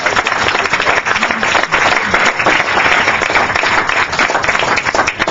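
Loud, sustained applause from a city council meeting audience honoring team members, dense clapping filling the whole stretch at close range with no break.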